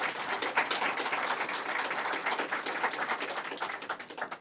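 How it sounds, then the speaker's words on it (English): Dense clapping from a crowd gathered at an elementary school event, applause holding steady throughout. "Let's give them a round of applause."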